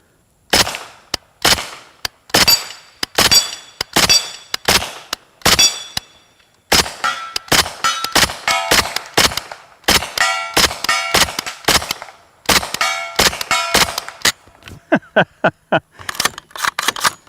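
A suppressed Kalashnikov USA KP9 blowback pistol fires shot after shot at steel targets, each muffled report paired with a bright metallic ring. The shots come in quick strings with short pauses, loud and close.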